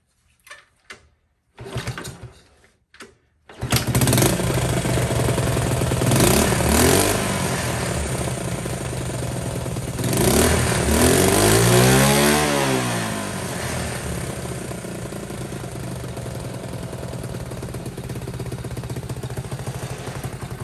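An auction motorcycle's engine cranks in a few short bursts, catches, and settles into a loud steady idle with a swelling rev midway, running close by without talk.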